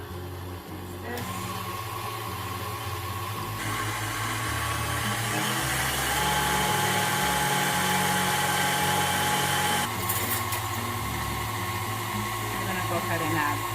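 An electric hand mixer whirs steadily as it beats cream with confectioners' sugar for a tres leches cake. The motor hums loud and close and shifts in pitch as the speed changes, running without a break for about fourteen seconds.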